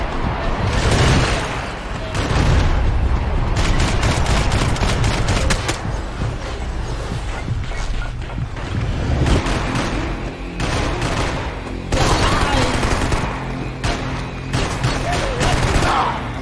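Intense shootout gunfire in the video game Max Payne 3, dense bursts of rapid shots and booming impacts crackling almost nonstop, loud and close, with brief lulls between volleys.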